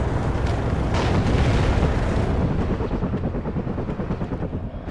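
UH-60 Black Hawk helicopters in the WARNO strategy game, a dense, loud rotor-and-engine roar mixed with booming explosions and battle noise that eases slightly toward the end.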